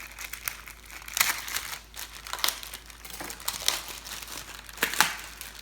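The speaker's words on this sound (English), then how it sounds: "So first thing you wanna do is just get it out of the bag." A 30-day aged rib eye is pulled from a crinkly plastic bag, with loud crackling and crumpling bursts in irregular handfuls, close up and with no talking.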